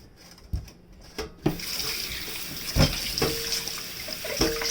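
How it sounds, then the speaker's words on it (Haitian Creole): Water is poured and drained out of a cooking pot into a sink, a steady splashing rush with a few knocks and clanks of the pot, close by and with no voices. "On va le vider de l'eau."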